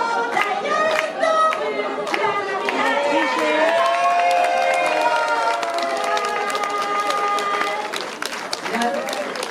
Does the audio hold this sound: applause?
yes